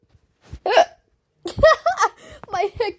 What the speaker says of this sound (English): Because of my hiccups.